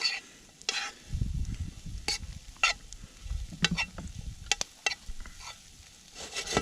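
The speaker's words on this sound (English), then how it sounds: "So we're gonna mix all the flour in and let that cook off." Sausage and flour stirred together in a pan over an open fire to make a roux for biscuits and gravy, with a soft sizzle under repeated scraping strokes of a spoon against the pan.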